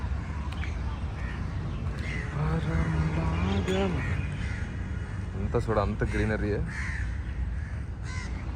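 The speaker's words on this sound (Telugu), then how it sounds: "కోకిల్లో పక్షులు భలే కూస్తున్నాయి" Birds call in a green park, including raspy crow caws and a few repeated harsh calls scattered through, heard under a person speaking nearby.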